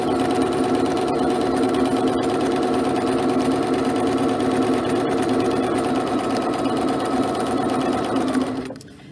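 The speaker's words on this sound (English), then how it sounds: "So I'm going to back stitch and start sewing at a 1/4 of an inch." A sewing machine runs steadily while topstitching a fabric apron at a quarter inch, a loud continuous mechanical hum and rapid needle chatter that stops abruptly near the end.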